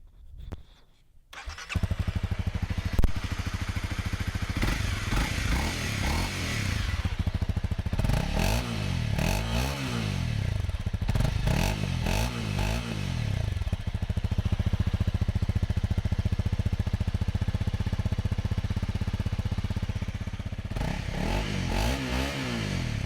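A Honda CRF250L motorcycle fitted with a Yoshimura spark arrestor exhaust starts and then idles steadily, with a couple of revs, outdoors on a rural property, close and fairly loud with no talk.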